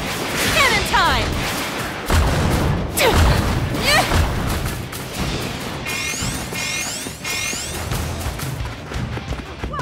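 Cannon fire in the video game My Hero Ultra Rumble, a run of loud booming blasts and crashing impacts with whooshes, mixed with busy game effects and voices calling out.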